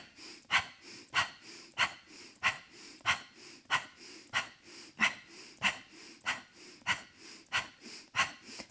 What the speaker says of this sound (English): add that pumping breath